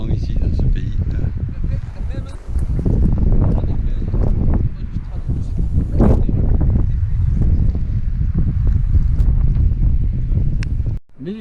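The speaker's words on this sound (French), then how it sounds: "on voit qu'il y a du vent ici, dans ce pays" Strong wind buffets the microphone outdoors at a hilltop rugby ground overlooking the village of Talairan, a continuous loud rumbling roar with gusts rising and falling, and someone talks over it.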